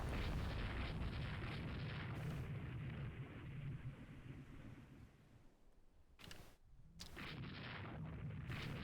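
Destroyer guns firing in the naval strategy game Rule the Waves 2: a dense, continuous roar of booming shots and blasts, loud and steady, with two brief near-silent breaks late on.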